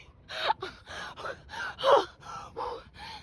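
A person suffocating inside a hot costume gasps for breath in a series of about eight ragged, close, strained breaths at an uneven rhythm, alone without words.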